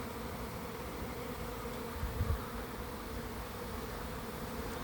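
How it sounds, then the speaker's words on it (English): A small swarm of honey bees clustered outside a hive gives a steady, dense buzzing hum throughout, with a brief thump midway. "I go and I find this little swarm here"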